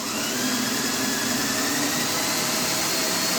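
A V10 engine in a sleeper car build revs hard and steady with the car raised just off the ground, producing a loud, continuous broadband roar that holds at high revs without letting up.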